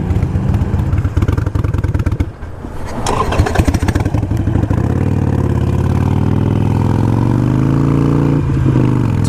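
A Harley-Davidson Iron 883 V-twin with a Vance & Hines Fuelpak FP3 runs close and loud, chugging unevenly with a brief dip and a little throttle before settling into a steady low rumble.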